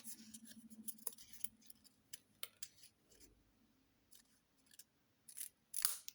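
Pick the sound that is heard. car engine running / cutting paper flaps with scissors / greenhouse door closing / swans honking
cutting paper flaps with scissors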